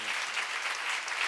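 Applause from a church seminar congregation, a dense steady patter of many hands clapping together at close range, filling the space with no talk over it.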